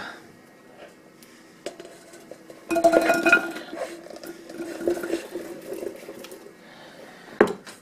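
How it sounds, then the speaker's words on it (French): Vegetables for a vegetable soup tipped from a small bowl into a cooking pot, giving a burst of clinks and knocks against the metal that trails into softer tumbling, then one sharp clink near the end. "On va les mettre directement dans la marmite."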